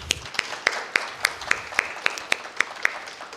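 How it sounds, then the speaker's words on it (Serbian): An audience at an exhibition opening claps in an even, steady rhythm, sharp distinct claps from a modest crowd heard without speech. "molim vas za jedan veliki aplauz za njih"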